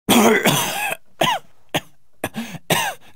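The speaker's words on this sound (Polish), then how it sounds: "Chyba kaszle krwią." Game character coughing up blood in Baldur's Gate, a run of harsh, wet, rasping coughs and throat-clearing in uneven bursts with short pauses, close and loud.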